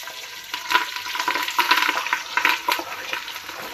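Onion and curry leaves sizzle and crackle in hot oil, a close, steady frying hiss with irregular pops and stirring throughout.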